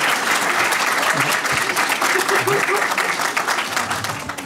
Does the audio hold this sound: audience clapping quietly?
yes